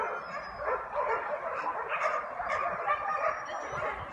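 Several dogs bark in a steady, overlapping chorus at an animal shelter, at moderate distance with outdoor background noise.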